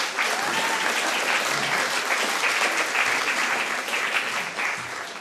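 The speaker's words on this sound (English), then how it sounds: "You want to give yourselves a hand, please?" An audience at an evening poetry reading breaks into sustained, dense applause that stays loud and even throughout, with no talk over it.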